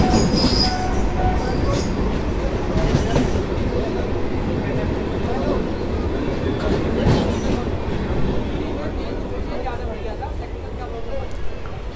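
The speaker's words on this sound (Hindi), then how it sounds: "ये ट्रेन नहीं रुकेगी," A train rolls straight through a station without stopping, a steady, loud rumble of wheels and carriages that fills the whole stretch, with faint squeals and rattles on top and voices murmuring underneath.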